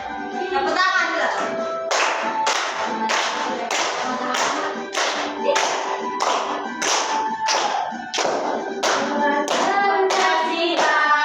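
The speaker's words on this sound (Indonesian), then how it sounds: "Tepuk tangan dulu." Children in an elementary school classroom clap their hands in a steady rhythmic pattern of about a dozen sharp, loud claps, with a sung melody running underneath.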